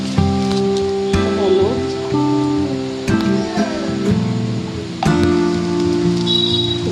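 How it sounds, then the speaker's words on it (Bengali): Egg chow mein frying in a pan with salt, cumin and coriander powder gives a steady, close, rain-like sizzle throughout, with background music playing along. "চাউমিনটা এবার ভেজে নেব"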